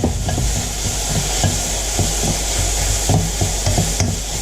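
Garlic, ginger and green chillies fry on high heat, a steady loud sizzle broken by repeated scraping stirs in an even rhythm, close up and with no voices.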